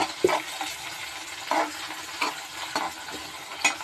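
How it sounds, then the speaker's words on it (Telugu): Onions and tomatoes sizzle and fry in a pan for a chicken curry while a spoon stirs them, giving steady crackling with several scraping strokes, fairly close and without speech. "ఆనియన్స్ బాగా ఫ్రై అయ్యండి. ఇప్పుడు టమాటో వేసుకోవాలి."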